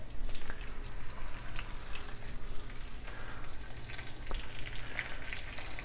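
Chicken pieces fry in hot coconut oil, a loud, dense and continuous sizzle heard up close with faint crackles and no talking.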